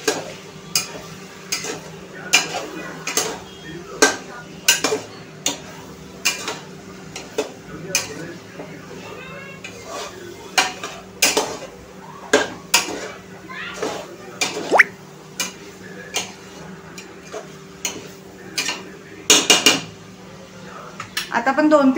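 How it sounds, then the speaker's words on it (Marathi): Spices and vegetables being sautéed in a pressure cooker for masala pulao, with frequent sharp clinks of a spoon against the metal pot and a soft sizzle running continuously underneath. "आता आपण मसाले छान परतून घेऊया भाजीसोबत 2-3 मिनिटं"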